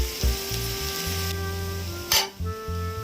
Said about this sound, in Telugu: ఇది కొంచెం కారం వాసన అంతా పోయే వరకు ఫ్రై చేసుకుందాం